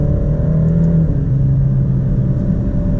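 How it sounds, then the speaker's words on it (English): A 2019 rear-wheel-drive Alfa Romeo Stelvio's inline four-cylinder engine drones steadily from inside the cabin while driving, a loud, continuous low hum with slight pitch shifts as it pulls, no voices present. "Now, you still hear a little something from the inline four-cylinder, but it is a four-cylinder"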